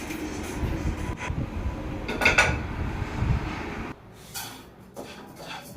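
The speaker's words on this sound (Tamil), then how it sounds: "மறுபடியும் மிச்சத்தையும் வறுத்துக்கலாம்" Black urad dal dry-roasting in a pan gives a dense, close rattling scrape as the grains are stirred and tossed against the metal, with a brief clink, then the sound drops to quieter scraping.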